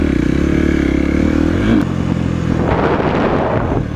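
A KTM 450 SXF factory-edition motocross bike, loud and close, holds a steady high rev before dropping off abruptly, then a rough, clattering lower engine note continues with some mechanical rattle, no talk.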